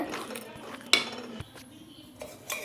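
Channa masala being stirred in a pan: a spoon scrapes and clinks against the metal in a few quiet, irregular knocks, with a sharper clink near the middle.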